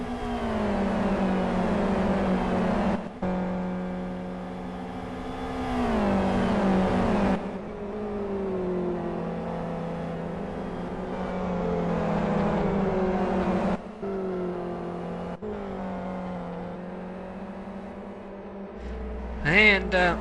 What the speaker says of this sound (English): Dolezal in 7th place is being harassed by Gerd in one of the other Sonic Realms cars